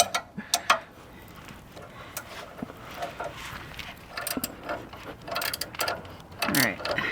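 A ratchet tightening bolts on a Jeep during a trailside alignment, with irregular bursts of close clicking and metallic ratcheting mixed with clanks and faint talk in the background.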